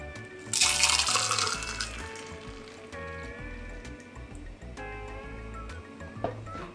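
Tiki nog, a tikified eggnog, pours from a shaker into a double rocks glass, with a brief louder gush at the start and then a softer trickle alongside light clinks of ice.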